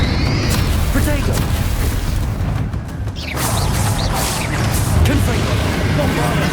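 Spell blasts crash one after another in the Hogwarts Legacy video game, loud whooshing bursts and booms layered over a thick, constant wash of combat noise, with a spoken voice casting spells among them.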